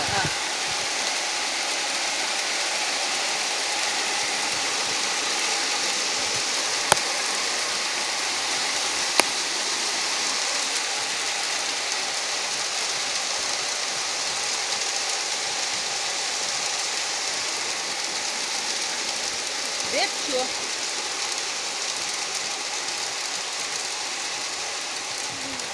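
Heavy rain pours steadily in a dense, unbroken hiss during a squall, with a couple of sharp clicks and faint voices now and then.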